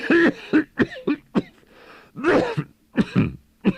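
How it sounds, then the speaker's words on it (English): A man coughs and clears his throat in a string of harsh, raspy bursts with short gaps between them, close and dry, during a dramatic reading of a Poe tale set in wine vaults. "How long have you had that cough?"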